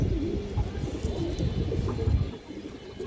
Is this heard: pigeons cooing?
yes